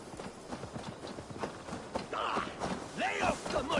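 Horse hooves clip-clopping in Assassin's Creed Valhalla, a quiet walking rhythm of hoofbeats under in-game talk and ambient sound.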